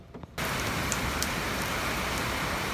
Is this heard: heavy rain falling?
yes